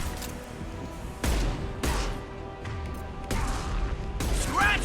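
Gunfire in a space combat video game: several sharp broadband blasts at irregular intervals, each with a ringing tail, loud over a steady low rumble and hum, no talking.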